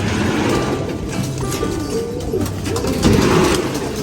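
Pigeons in a breeder loft coo in soft, low, rolling calls, several birds overlapping close by against a constant background rumble.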